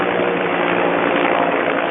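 A helicopter flying over the Bladen Nature Reserve, a steady loud rotor and engine roar that fills the whole two seconds without letting up, with no voices.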